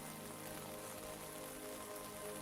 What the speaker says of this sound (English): The rain has started again outside, gentle, steady.